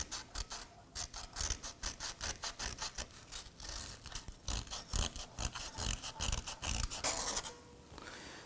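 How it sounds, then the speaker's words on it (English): Metal on the rear wheel hub of a 2003-2014 Volvo XC90, just above the ABS sensor, is sanded by hand in close, rhythmic rasping strokes that repeat steadily with brief pauses, and no voice is heard. "I'm going to sand the metal up above it. And just work your way around the perimeter."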